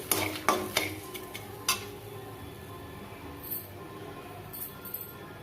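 Tamarind is stirred and fried in a pan for a curry leaf powder. A few sharp clinks of a spoon against the pan come first, then a quiet, steady frying hiss with occasional soft scrapes.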